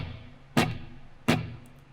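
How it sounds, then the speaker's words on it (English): Two strong acoustic guitar downstrokes, spaced evenly on the quarter-note beat, each a bright strum ringing out and fading before the next. "Nothing but downstrokes played on a beat."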